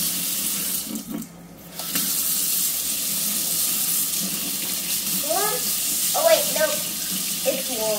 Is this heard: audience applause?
no